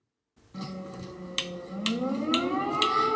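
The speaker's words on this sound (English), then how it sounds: "When the air raid siren went off in Kyiv the other night" Air raid siren wailing across Kyiv at night, a steady rising tone that climbs in pitch over a few seconds, joined by several short sharp bursts of noise.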